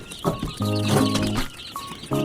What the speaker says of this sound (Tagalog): lahat ng alaga akong manok ang breed nila ay Rhode Island Red